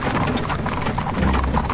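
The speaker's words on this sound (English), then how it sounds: "The horses reared up and broke into a gallop." Several horses gallop while pulling a carriage, a dense, steady clatter of hooves with a rumble beneath it, loud and close throughout.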